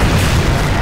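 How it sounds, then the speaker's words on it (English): A grenade explodes in a video game, one loud, dense, close boom that fills the whole short moment with rumbling low-end blast noise. "Grenade"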